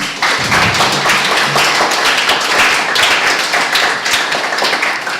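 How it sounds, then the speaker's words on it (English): Audience clapping for a panel at the close of a social enterprise event, a loud, close, dense round of applause with sharp individual hand claps, sustained evenly throughout and not interrupted by talk. "If you can give our panel a round of applause."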